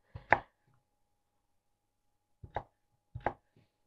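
Three crisp knife chops through carrots on a cutting board: one, a long pause, then two more in quick succession. The background is otherwise quiet.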